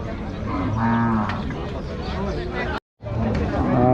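Cattle moo loudly nearby at a city cattle market in Rajshahi, long drawn-out calls over a busy crowd murmur, with a brief dropout before the lowing and chatter resume.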